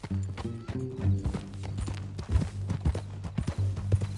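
A horse in Red Dead Redemption 2 clops along with quick, close hoofbeats and lets out several loud neighs and whinnies, with no talking.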